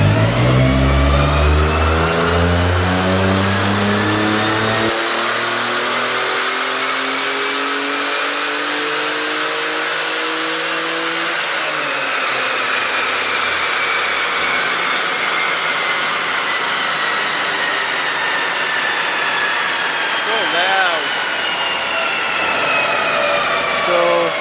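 A twin-turbo 3.8 engine runs a full dyno pull, revving hard and rising steadily in pitch to a loud whining peak, then spooling down in a long, smooth decay with turbo whoosh.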